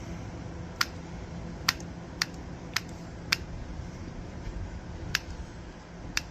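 Tin snips cutting a rubber-coated aluminum gasket on a Nissan/Tohatsu/Mercury outboard, seven sharp separate clicks of the blades at irregular intervals over a low background hum, close by with no voices.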